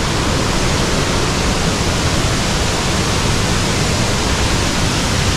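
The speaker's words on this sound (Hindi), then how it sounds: "यहाँ पर है वाटरफॉल, देखिए फाइनली लॉन्ग बुक वाटरफॉल" Langvoku waterfall in Karbi Anglong, Assam, roars as one dense, steady rush of falling water, loud and unbroken throughout with no voices.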